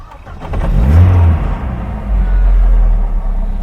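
An Opel Manta B2 with a 16v red top engine cranks and fires close by, rising into a loud rumbling rev before settling into a steady, throaty running note.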